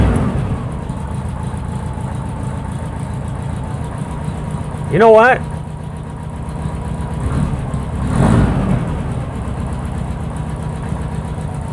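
Car engine idling with a Type 4 Sidewinder exhaust, a steady low rumble close by, with a short warbling rev blip midway and a voice briefly speaking over it.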